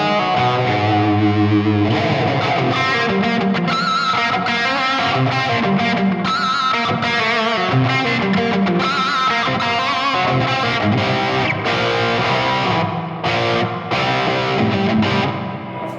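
Distorted electric guitar played through a TONEX Plug with a large room reverb, an 80s rock tone, loud and continuous with sustained chords and fast runs, close with no voice.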